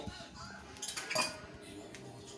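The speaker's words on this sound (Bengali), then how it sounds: "আমি একটু এবার একটা তাওয়া বসিয়ে তার মধ্যে অল্প একটু তেল দিয়ে" A metal tawa griddle is set down on a kitchen stove, giving a few faint clinks and scrapes of metal on metal that cluster around the middle, over a low background hum.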